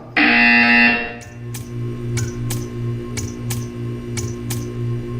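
Loud harsh buzzer blast in the Portal 2 video game, about one second long, followed by a low hum with a series of sharp clicking ticks spaced evenly after it.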